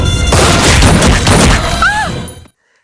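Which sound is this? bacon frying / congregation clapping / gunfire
gunfire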